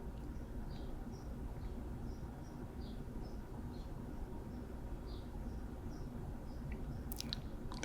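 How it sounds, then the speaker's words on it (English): Small bird chirps repeat faintly in the distance, soft short calls spaced about every half second over a low background rumble. "I think there's a bird in the background."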